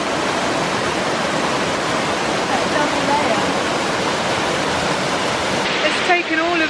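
Gushing waterfall in a gorge of the northern Black Forest, a loud, steady, broad roar of falling water that fills the whole clip, with a voice briefly heard near the end.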